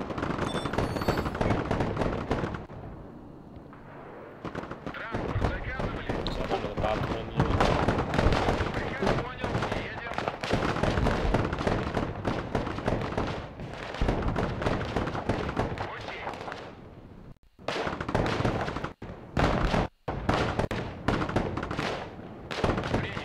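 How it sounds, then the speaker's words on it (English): Bombs explode in the war game Broken Arrow, dense loud blasts and crackling gunfire packed into bursts with short silent gaps. "Nice bombs."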